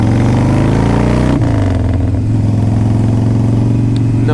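A Harley-Davidson Softail Standard with forward controls and very high mileage revs hard up close, its loud V-twin note climbing, then dropping suddenly as it shifts and settling into a steady deep throbbing rumble while riding, with no talk.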